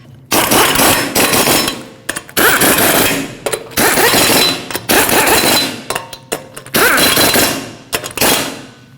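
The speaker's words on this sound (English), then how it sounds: "bottom them out in a cross pattern to seat the wheel evenly, and also in a cross pattern, torque them to 76 foot-pounds" An impact wrench torques the rear wheel lug nuts on a 2020s Toyota Corolla in a cross pattern, firing in several loud, rattling bursts of about a second each, separated by brief pauses.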